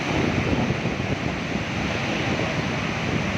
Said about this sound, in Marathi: नदीला पाणी सोडलेलं आहे बघा बघा किती भरपूर प्रमाणामध्ये पाणी सोडलेलं आहे